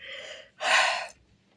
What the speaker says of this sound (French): Je baille parce que...